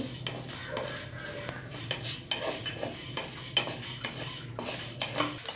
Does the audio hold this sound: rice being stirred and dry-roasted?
yes